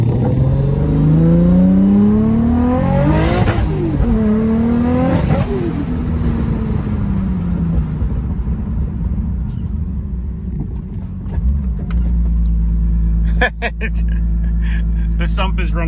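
A Pandem-kitted Nissan R32 revs hard on a short test hit, its engine rising and falling in loud sweeping pulls before settling into a steady low idle with some clatter, heard from inside the car.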